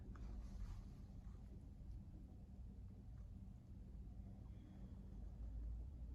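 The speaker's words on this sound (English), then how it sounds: "Now that's a car traveling outside." A car travels past outside while heard from indoors in a bed at night, a very faint, low, muffled rumble spread evenly under a quiet room hiss.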